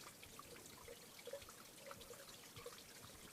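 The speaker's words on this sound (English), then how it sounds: "Listen to this water." Soft trickling water running and dripping down rock on a Big Bend hiking trail, with scattered small drips, quiet and steady, heard alone without voices.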